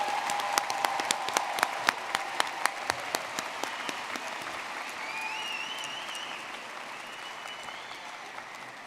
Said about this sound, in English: Please give a round of applause to the master's and specialist degree graduates.